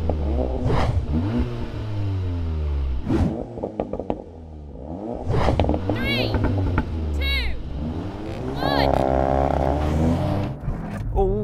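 A Volkswagen Golf R and a Cupra Ateca launch side by side in a drag race, engines revving hard and rising in pitch, with excited commentary talking loudly over the roar throughout.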